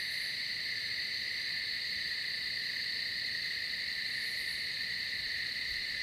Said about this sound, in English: There it is. Crickets chirping.